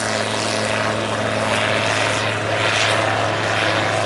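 A small aerobatic aircraft with a 180 horsepower engine takes off at an airshow, its propeller engine roaring loud and steady at close range without letup.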